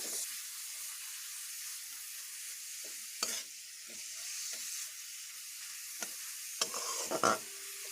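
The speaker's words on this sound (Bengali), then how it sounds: "এবার একটু আমি এইভাবে একটুক্ষণ ভাজতে থাকবো এগুলোকে" A lentil mixture fries in a pan with a soft, continuous sizzle, broken by repeated scraping strokes of a spoon that grow busier toward the end.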